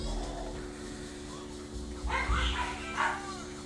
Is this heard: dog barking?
yes